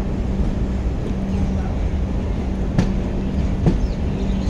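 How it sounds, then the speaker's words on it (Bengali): Puri–Shalimar Dhauli Express superfast train number 12822 pulling out of Bhadrak station, a steady low rumble and hum from on board, with a couple of sharp clanks. "ভদ্রক ছেড়ে বেরিয়ে যাচ্ছে ট্রেন।"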